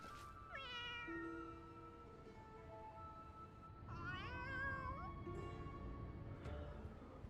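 A cat in the video game Final Fantasy XIV meows several times, with clear, high, wavering cries at close range set against steady in-game background sound.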